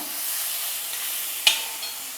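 Steady frying sizzle with a sharp hiss as steamed mixed vegetables for thoran drop into hot oil, then the sizzling carries on evenly.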